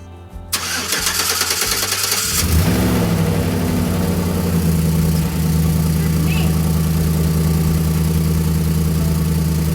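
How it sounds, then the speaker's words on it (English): A Chevy car engine with a small exhaust leak cranks and catches, then settles into a steady loud idle with a slightly ragged, puffing rumble throughout. "It sounds like there's like a little exhaust leak, I think because I have the wrong clamp."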